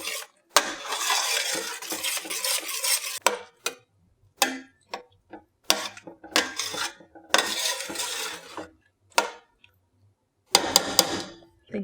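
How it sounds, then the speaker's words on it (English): Spoon scraping and clinking against a pan while stirring food seasoned with onion powder and garlic powder, in close, irregular bursts separated by short silences, with no talking. "Give it a stir."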